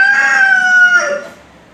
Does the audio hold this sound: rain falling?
no